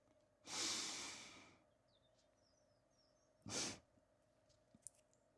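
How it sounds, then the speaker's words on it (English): Two sharp nasal inhales during a seated breathing exercise, taken through the nose: a long, loud sniff followed seconds later by a shorter one, in an otherwise quiet room. "you're going to double inhale through the nose"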